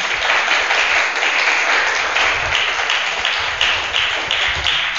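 Weak, sustained applause from a church congregation during a sermon, a steady wash of many hands clapping at moderate volume with no talk over it.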